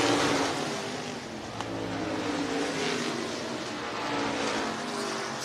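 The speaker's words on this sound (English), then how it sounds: "It's a 4-pack of cars battling for the top spots." Stock cars race down the back straightaway at Hancock County Speedway, a dense, continuous engine roar from several cars running together at a distance.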